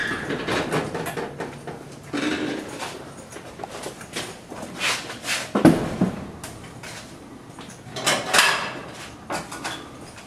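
Clanking and scraping of a metal storage unit door sliding open in several jolts, with rattles and thumps, fairly close and loud.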